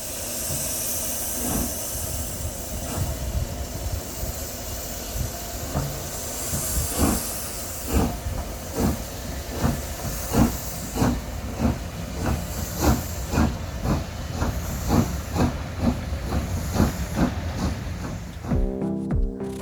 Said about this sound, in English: at weekends we get the old steam trains going past